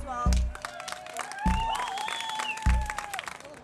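A small crowd in Portugal greets an arriving refugee family with bursts of applause and enthusiastic cheering, rising in three strong waves, with voices calling out over the clapping.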